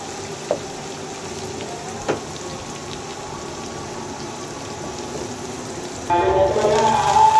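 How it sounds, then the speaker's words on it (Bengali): Onions are fried for a spicy Bengali duck bhuna. A mostly quiet kitchen with a couple of faint knocks breaks into a sudden loud sizzle near the end as the onions hit hot oil. "আগে পেঁয়াজটা ভেজে নিই"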